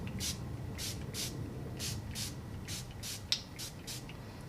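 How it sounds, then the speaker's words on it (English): A skin-mist bottle, Farsali Rose Gold Skin Mist, gives about a dozen quick, airy spray hisses in an uneven rhythm, close and fairly soft, with a single small click partway through. "I'm just going to spray some of my Farsali Rose Gold Skin Mist."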